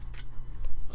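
Scissors snip through paper for a wedding-themed junk journal, with a few quick, close cuts in a short burst and no voices.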